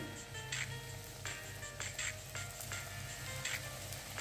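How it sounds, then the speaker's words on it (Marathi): Matar karanji pastries deep fry in hot oil in a kadhai over medium heat, making a quiet continuous bubbling sizzle with a few soft clinks. "तेल ऑलरेडी गरम झालेलं आहे आणि हे मीडियम आचेवर आपल्याला व्यवस्थित असे खरपूस तळून घ्यायचे आहे"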